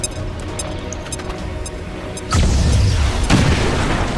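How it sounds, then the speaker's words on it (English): A grenade blast in XCOM 2: War of the Chosen, a loud, close boom that erupts suddenly after quieter background sounds, followed by a second smaller burst and a rumbling tail. "Grenade him out. Explosive out."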